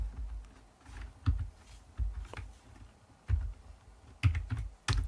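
Keys clatter on a computer keyboard during slow data entry into a Word Art box in PowerPoint 2021, with irregular bursts of close, crisp keystrokes separated by short pauses.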